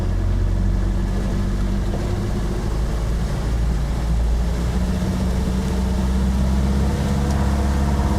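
Small tri-hull boat's outboard engine running near 2,000 RPM, a loud steady drone with a slightly uneven, stumbling rhythm and constant low rumble throughout.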